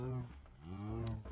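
Minecraft cows lowing in a drawn-out, low moo that swells and fades, fairly soft and close, with a brief higher click near the end.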